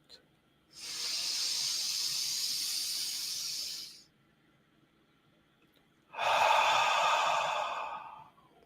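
Slow, deep breaths during a guided breathing exercise: a long hissing inhale through the nose, a pause in silence, then a loud, forceful exhale, close and clear with no talking.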